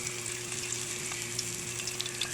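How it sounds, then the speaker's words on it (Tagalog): Tunsoy fish fillets frying in hot oil in a pan, a steady dense sizzle and crackle held evenly throughout, close up with no voices. "And then, ipipirito na po natin sila."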